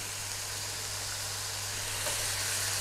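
Onions hitting a hot pan of beef, garlic and ginger stir fry (pad khing nuea) give off a soft, steady sizzle and hiss that stays even and fairly quiet throughout.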